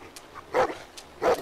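A dog in The Walking Dead: Season Four video game gives two short, separated barks, moderately close and clear, with a quiet background and no talk.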